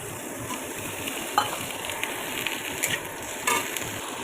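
Tomato and green chili frying with onion in a pan for a Bengali home-style dish, a continuous crackling sizzle punctuated by a few sharp utensil scrapes and taps, close and unvoiced.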